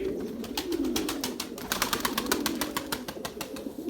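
Domestic pigeons take off and land, a rapid clatter of flapping wingbeats over a soft, continuous cooing, close by.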